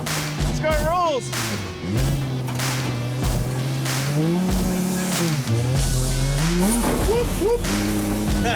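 A barn-find 1968 Dodge Charger races on a dirt track, its V8 roaring and rising and falling through revs and gear changes with tire squeal, loud and close, while people shout and talk nearby.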